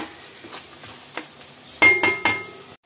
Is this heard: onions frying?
yes